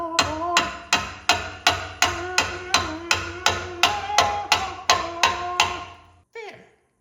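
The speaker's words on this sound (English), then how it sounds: "Hammer." A hammer strikes a cast iron exhaust about a dozen times in a steady, ringing rhythm, each blow sharp and close with a metallic decay, ending with a final scraping knock.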